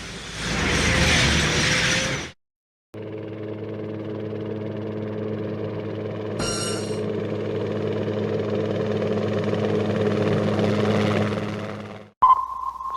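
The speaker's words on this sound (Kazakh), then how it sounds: "Танк." A military tank's heavy engine and tracks give a steady, loud mechanical drone with grinding, ratcheting texture that runs for about ten seconds after a brief burst of noise and a short gap, then cuts off abruptly.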